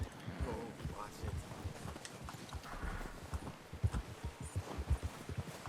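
Horse hooves from the video game Red Dead Redemption 2 beat out a steady, close clip-clop rhythm over a light wind backdrop, with a faint snort or whinny in places.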